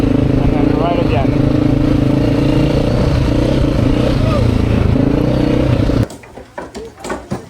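An adventure motorbike riding on slick village roads in Madagascar, its engine droning steadily and close for about six seconds, then cutting to quieter scattered knocks and rattles.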